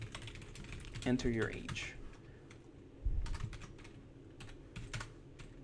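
Keys clatter on a computer keyboard as C# code is typed, with a voice speaking over the start of the clattering and further bursts of keystrokes following, close and fairly quiet.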